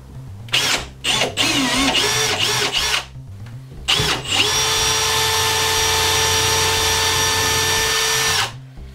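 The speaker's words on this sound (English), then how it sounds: "Then we're going to drill our pilot holes." A power drill whirs in short bursts, then runs in one long steady whine for several seconds while drilling pilot holes in drywall for a grab bar, close and loud.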